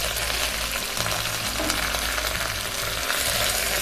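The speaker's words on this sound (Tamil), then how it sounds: "ஃபஸ்ட்டு கடுகு போட்டு தாளிக்கலாம்." Mustard seeds, fenugreek and curry leaves sizzling in hot oil in a pan for a Tamil milagu kuzhambu, a steady loud crackling hiss close by with occasional pops, continuous throughout with no talking.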